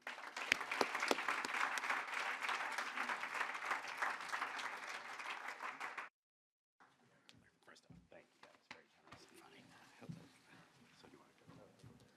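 An audience at a 2026 Hall of Fame induction ceremony breaks into dense, sustained applause welcoming an inductee. It cuts off abruptly after about six seconds, leaving quiet room noise with faint murmurs.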